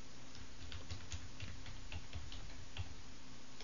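Keys on a computer keyboard clatter in a quick, fairly soft run of separate clicks, steady and close, with no voices.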